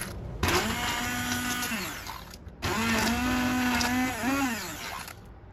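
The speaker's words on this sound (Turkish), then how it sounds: "Doğradığımız domatesleri bir blender yardımıyla pürüzsüz olana kadar çekelim." A kitchen blender purees chopped tomatoes in two loud whirring runs, each with its pitch dipping as the load shifts, separated by a brief pause.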